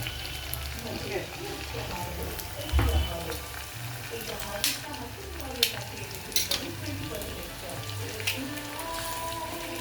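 Eggs fry on a stove for egg bhurji, a continuous close sizzle with repeated spatula scrapes and taps against the pan, no talk heard.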